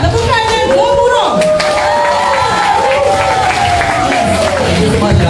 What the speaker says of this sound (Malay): Tepukan dan gemuruh.